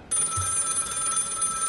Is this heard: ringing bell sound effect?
yes